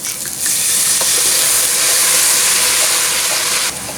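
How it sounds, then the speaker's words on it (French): Red wine hits browned onions in a hot pot for onion soup and sets off a loud, steady, close hiss of sizzling and steam that holds for several seconds, then eases off at the end. "je vais déglacer avec mon vin rouge"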